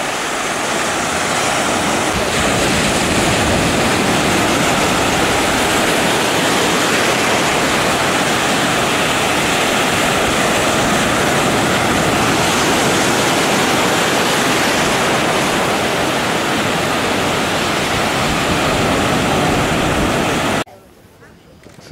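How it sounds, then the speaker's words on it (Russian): Steady, continuous roar of surf washing onto sand at low tide on Phuket, loud and close, without pause until it cuts off abruptly near the end. "Волна работает."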